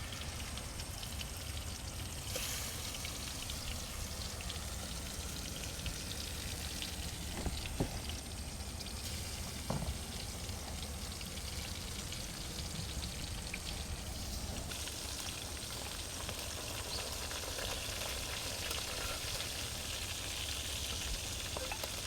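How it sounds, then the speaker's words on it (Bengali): Hilsa fish frying in mustard oil at an outdoor picnic in Kuakata, a steady broad sizzle with faint crackles and pops, moderately loud and continuous throughout. "সরিষার তৈল দিয়ে ইলিশ মাছ ফ্রাই চলছে"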